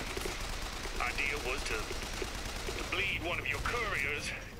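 Enemy gunfire in Bioshock Infinite rattles repeatedly at the player, steady mechanical shots under someone talking over the noise.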